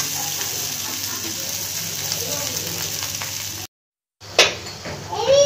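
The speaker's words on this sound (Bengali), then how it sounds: "তো দেখো মশলা কষিয়ে নিয়েছি" Spice masala for aloo dum frying in a pan: a steady, close sizzling hiss that cuts out abruptly, then returns with a sharp clatter and stirring scrapes.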